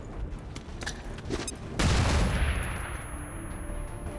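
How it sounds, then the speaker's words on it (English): Flashbang grenade going off in XCOM 2, after scattered gunfire, a sudden loud broadband burst that rings out and decays into a lingering hiss. "Alright, toss that flashbang."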